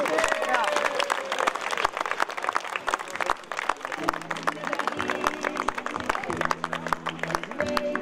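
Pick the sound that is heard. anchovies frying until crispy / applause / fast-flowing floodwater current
applause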